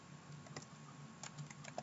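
Quiet typing on a computer keyboard while filling in a Google Sheets chart, with irregular light key clicks and a few sharper taps spread across a short stretch, no voices.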